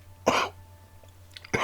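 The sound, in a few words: person coughing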